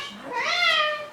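An outdoor cat gives a single close meow lasting about a second, rising and then falling in pitch, with no other sound around it.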